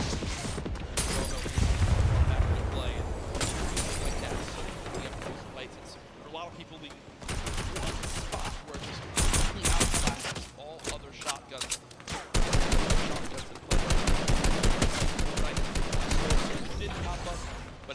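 Shotgun fire in Fortnite, including a blue pump shotgun, with repeated loud blasts and crashes in dense bursts amid continuous game noise and talking.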